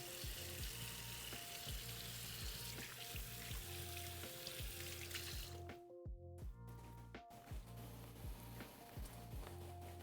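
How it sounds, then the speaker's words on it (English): Onions sizzling and frying in a pan for a Greek moussaka, a constant close hiss and crackle with light stirring clinks, briefly dipping partway through before the sizzle resumes. "Give those onions a stir again."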